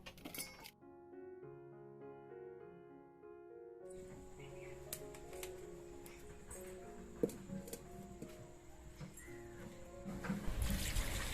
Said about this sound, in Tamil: கிழங்க வச்சுட்டு கிழங்கு முழுகிற அளவுக்கு தண்ணி சேர்த்துக்காங்க.